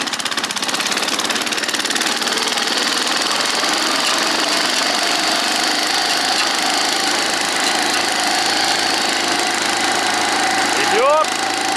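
A Forza 6.5 motorized snow tow drives across deep untracked snow, its engine running as a steady, loud, continuous drone throughout, with a brief whistle-like sweep near the end.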